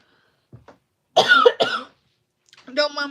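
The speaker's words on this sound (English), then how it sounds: "Don't mind me coughing." A couple of sharp, close coughs in the middle, preceded by faint breaths and followed by a brief voiced sound.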